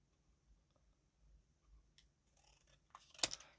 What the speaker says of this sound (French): Déjà, je vais le découper. J'avais mis des ciseaux.